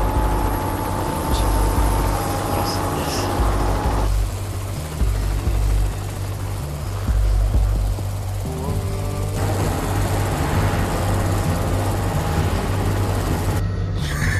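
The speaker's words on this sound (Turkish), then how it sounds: "Helikopter var tepemizde." A helicopter drones loudly and steadily overhead, its rotor thudding in a low pulsing beat that fills the whole stretch.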